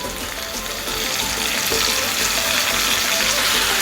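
Grated mango for mango chutney hits a hot pan and fries with a loud, steady sizzle that swells after the first second and holds without talk.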